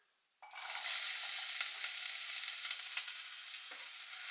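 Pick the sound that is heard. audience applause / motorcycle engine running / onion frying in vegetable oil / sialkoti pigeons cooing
onion frying in vegetable oil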